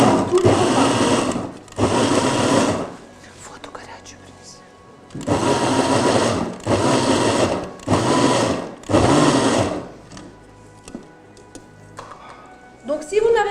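An electric grater whirs loudly through vegetables in several separate bursts of a second or two each, with short quiet gaps between them where a person speaks softly.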